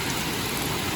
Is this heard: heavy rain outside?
yes